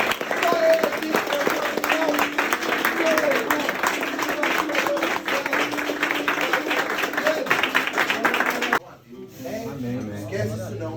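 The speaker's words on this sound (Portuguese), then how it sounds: "Glorifica o Senhor nas tuas palmas, irmão." A church congregation claps hands in a dense, continuous patter for several seconds, with voices rising faintly over it, before the clapping cuts off and a quieter stretch follows.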